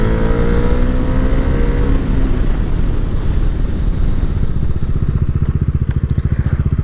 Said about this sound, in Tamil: டாமினார் 350யோட பிரேக்கிங் பவர் எப்படி இருக்குன்னு பார்த்துடலாம்.